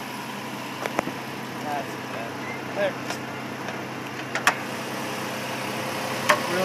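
A Toyota Highlander hybrid engine runs at a smooth, quiet idle just after being switched on, with a low steady hum, a few faint clicks and someone speaking briefly over it.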